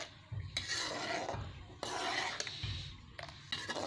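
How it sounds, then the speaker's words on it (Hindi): A spoon stirring orange jam in a pot, producing repeated scraping, rubbing strokes against the pan with short clinks, close and moderately quiet. "और एक चम्मच की मदद से हम इसको इस तरीके से हमने हिलाते रहना है।"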